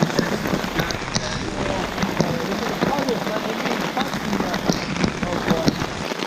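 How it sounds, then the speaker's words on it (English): Heavy downpour drumming steadily on a camping tarp during a canoe trip in Algonquin Park, a dense continuous patter with occasional heavier drops, loud and close, with faint voices now and then underneath. "Caught in a bit of a downpour here."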